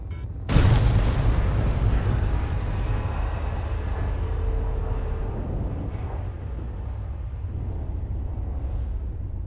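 Atmo bombs detonate in a video game with a sudden heavy boom that is followed by a long rumbling decay, with faint debris and a low drone lingering after the blast.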